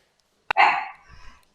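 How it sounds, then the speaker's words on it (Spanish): A small female dog gives a single sharp bark, close and fairly loud, followed by a brief fading tail and a low rumble. "voy a tener un acompañamiento sonoro de mi perrita"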